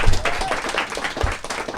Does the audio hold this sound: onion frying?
no